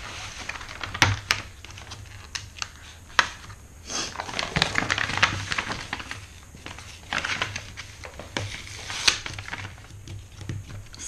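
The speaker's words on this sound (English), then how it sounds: "So let me get rid of these staples" Staples are pried and pulled from a thick paper shopping bag, giving close, irregular clicks, scratches and crinkles of paper over about eleven seconds with no talking.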